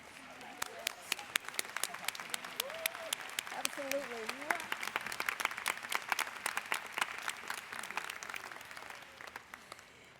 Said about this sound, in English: can we stand and give the Divine Nine a round of applause